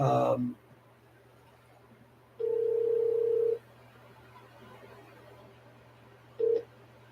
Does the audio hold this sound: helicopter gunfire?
no